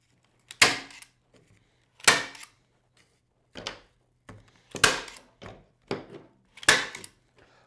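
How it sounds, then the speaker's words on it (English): A stapler fires into pipe cleaners on a wreath form, giving sharp, separate snapping clacks spaced a second or so apart, some doubled, with quiet gaps between them. "then just staple it in a few places"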